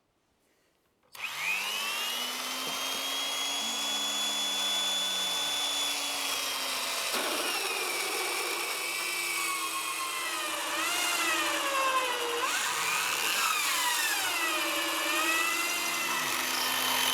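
A steady, high-pitched power drill whine runs almost continuously, its pitch dipping and rising as the bit bites into solid wood, close and loud.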